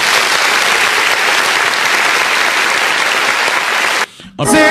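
An audience claps loudly and steadily for about four seconds. The applause then stops abruptly, and a brief voice follows.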